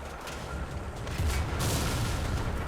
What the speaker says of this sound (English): Whoa, bounced another shot.